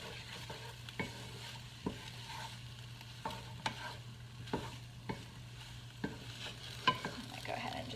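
Food being stirred and mixed in a pan for a patty pan squash dinner, a soft steady sizzle broken by regular spoon scrapes and taps roughly once a second, close and quiet.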